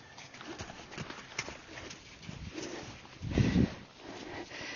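A spooked horse bolts, its hooves drumming a quick run of clip-clop beats on the ground, with a heavier thud cluster near the end and faint outdoor noise.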